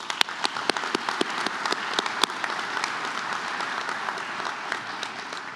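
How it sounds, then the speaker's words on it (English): A large audience at a university faculty and staff convocation gives sustained applause. Many hands clap in a dense, even roar, with a few sharper nearby claps standing out early on before the sound settles into a steady wash. "Please join me in giving them a round of applause."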